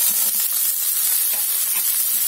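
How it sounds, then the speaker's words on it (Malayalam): Chopped onions dropped into hot oil in a pan for a North Indian dal fry, giving a steady close sizzle and hiss with faint stirring pulses, no talk. "ഇതിലേക്ക് നമുക്ക് അരിഞ്ഞു വെച്ച സവാള ഇടാം."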